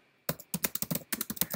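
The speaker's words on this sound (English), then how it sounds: "You're listening to me type" Fingers typing on a computer keyboard in real time, a quick close run of light plastic key clicks in irregular bursts after a brief silent start.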